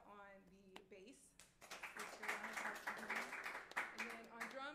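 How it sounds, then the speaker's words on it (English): Audience clapping for the pianist at a jazz and poetry event, a spoken introduction first and then a burst of applause swelling underneath and carrying on to the end, fairly quiet overall. "Round of applause for him."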